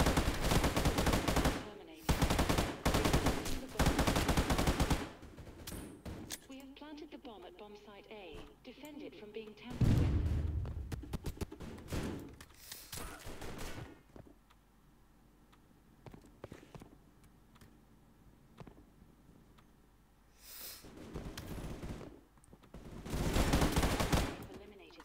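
Bursts of rapid gunfire from the Roblox shooter Bomb Line crackle in loud volleys, stopping and starting, while a player talks across the quieter gaps and footsteps patter between rounds.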